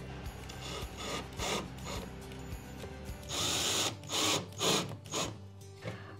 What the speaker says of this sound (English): I'm gonna go grab the drill and pre-drill some little holes to get this started.